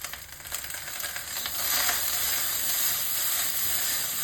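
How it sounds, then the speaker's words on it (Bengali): Okra sizzles in hot oil in a frying pan while being stirred, a close, steady hiss with soft scraping and rising intensity, no voices. "এই ঢেঁড়সটা একটু নাড়াচাড়া করার পর তারপরে দেবো নুন হলুদ"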